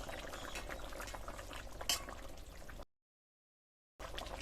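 A pot of Bengali village-style fish curry with potatoes and bata fish bubbles at a steady boil, giving a continuous close simmering hiss with one brief sharper splash, before a stretch of silence and a return of the bubbling.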